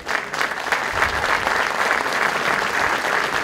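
Sustained applause from an audience at a calf sale in Cañuelas, dense steady clapping throughout with no gaps, fairly close and loud.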